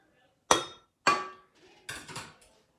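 Eggs, cream and milk being added to flour in a bowl for brioche dough, heard as three sharp, close clinks and knocks against the bowl in quick succession, with quiet gaps between them.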